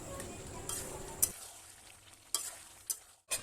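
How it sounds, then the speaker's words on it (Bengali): A spoon stirs tomato, green chili and ginger-garlic paste in a cooking pan for a country chicken curry, a steady soft sizzle broken by a few sharp scrapes and clinks against the pan. "আদা রসুনের পেস্টটা দিয়ে এবার একটু ভালো করে নাড়িয়ে নেবো।"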